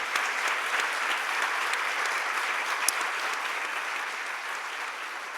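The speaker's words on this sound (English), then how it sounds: "I really want another round of applause for the" An audience at an in-conversation event applauds steadily and loudly throughout, a dense wash of many hands clapping with no gaps and no speech.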